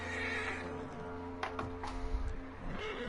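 A horse in Red Dead Redemption 2 gives a loud whinny and snorts over a steady game ambience. Hooves shuffle now and then, and no one speaks.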